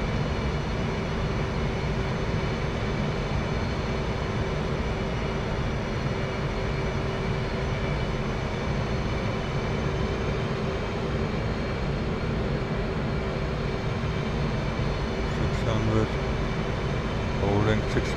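A jet aircraft engine in DCS World flight simulator during field carrier landing practice, a constant loud, broadband roar that holds steady without letup throughout.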